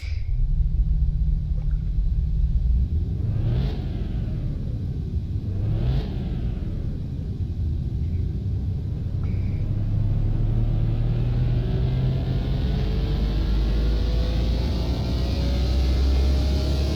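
A tuned car engine in Car Mechanic Simulator 2021 revs hard on a dyno, climbing through two sharp rising sweeps before holding a loud, steady high-rpm drone that keeps building toward the end, with no talk over it.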